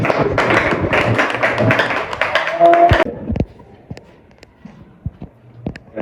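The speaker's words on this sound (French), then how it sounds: "Si vous comprenez, on peut applaudir." A seminar audience at a self-empowerment coaching session claps in a dense burst of quick, sharp hand claps for about three seconds, then cuts off abruptly. Scattered taps and small room noises follow in near quiet.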